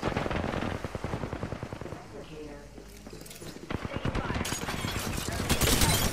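Rapid automatic gunfire in the Apex Legends video game, dense repeated bursts with the pace rising toward the end, heard along with game voice callouts and a bit of talk.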